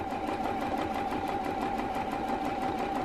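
A sewing machine stitches down the folded corner of a mini quilt block, giving a steady, even rapid rattle with a constant motor whine, close and continuous with no talking.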